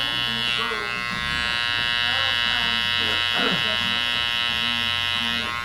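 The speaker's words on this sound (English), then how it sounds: "So I've got to change my direction of clipper stroke and bring it down." Electric hair clippers buzz steadily and loudly at close range while cutting a man's hair, the droning motor shifting slightly in tone as strokes change direction.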